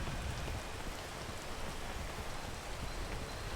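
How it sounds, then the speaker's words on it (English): Steady rainfall in the video game PEAK, a soft continuous patter of drops hissing evenly throughout, faint and alone with no talk. "Nope, there's the rain."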